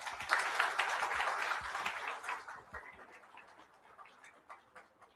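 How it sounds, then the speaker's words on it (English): An audience applauds after a presentation on river rejuvenation, a dense burst of clapping that is loud at first and thins out over the last couple of seconds. "Big round of applause for him."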